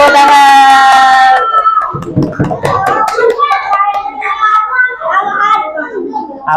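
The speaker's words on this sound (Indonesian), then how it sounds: "tepuk tangan" Children in a classroom clapping together after a teacher's cue, a steady rapid patter of many hands, close and loud, with children's voices and chatter mixed in.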